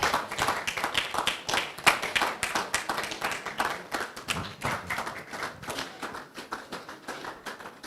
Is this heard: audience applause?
yes